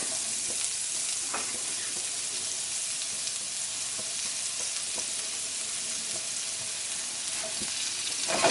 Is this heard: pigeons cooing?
no